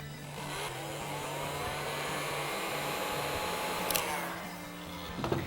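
Hair dryer drying paint on a sew-free patchwork painting of a tiger, a steady loud blowing whir running throughout with no speech.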